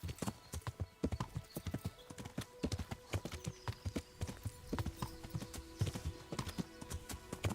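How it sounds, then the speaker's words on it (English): Horse hooves clip-clop steadily and rapidly in the game Kingdom Come: Deliverance, a continuous quiet gait with faint ambient hum and no speech. "This horse is different, it's like a random horse and Pebbles is like bound to me."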